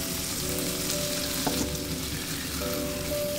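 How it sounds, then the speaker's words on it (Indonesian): Five chicken pieces are sautéed in a pan for ayam bacem, giving a steady, close sizzle over a faint tonal kitchen hum, with a single soft utensil knock midway. "kita tumis sampai si ayamnya ini ngeluarin airnya."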